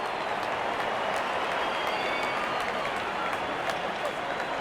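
Crowd applause in a cricket video game between Pakistan and India, a steady dense wash of clapping and cheering holding at an even level throughout, with no pause.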